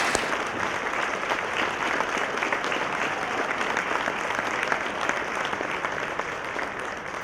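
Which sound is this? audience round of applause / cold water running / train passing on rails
audience round of applause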